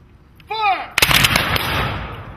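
Reenactors fire a historical rifle volley outdoors at a barracks: a loud, sharp crack around the one-second mark that echoes and rolls on, after a voice calls out a command. Crowd and background noise continue beneath.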